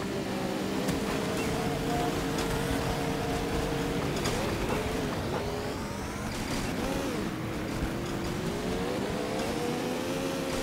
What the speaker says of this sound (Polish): Mój silnik cierpi.